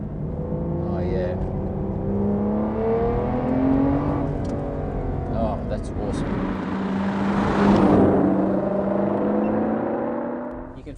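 A 2008 Aston Martin DBS with a manual gearbox and V12 engine pulls through a corner under smooth throttle, its engine note rising steadily and staying loud throughout, while people talk excitedly over it.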